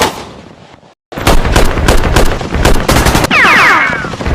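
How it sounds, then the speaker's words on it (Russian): Loud bursts of gunfire crack in rapid succession after a brief silence, with repeated shots overlapping and echoing close by, in a war-themed Lego animation of the battle for Toretsk. "Выстрел!"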